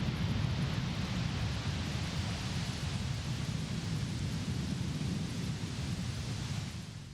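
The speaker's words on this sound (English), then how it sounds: "Thunderous ambience." Steady thunderstorm ambience from a GarageBand sound pack: dense rumbling thunder and rain hiss held at an even loud level throughout, easing slightly at the end, with no voices.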